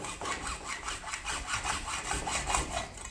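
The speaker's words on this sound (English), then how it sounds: "I'm just using a hacksaw. You could use a sawzall, skill saw, pretty much anything, but this PVC conduit cuts pretty easy." A hand hacksaw cuts through PVC conduit in a woodshop with quick, even back-and-forth strokes, a steady rasping close by and alone.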